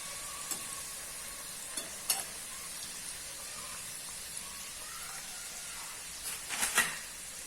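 Samosas frying in oil over a low flame give a steady, soft sizzle throughout, with a few faint crackles and pops, one cluster near the end.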